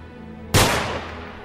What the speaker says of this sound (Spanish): de pronto escuchó un disparo en el piso de abajo de su edificio